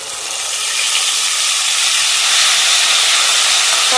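Tomato paste fries with spices in a hot pan, giving off a loud, dense, continuous sizzle that swells slightly and then holds steady, with no voices over it.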